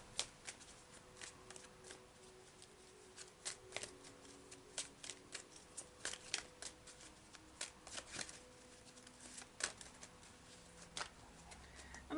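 Louise Hay Life Loves You oracle cards being shuffled, a steady run of quick, light riffling flicks and taps close by, with faint bird calls in the background.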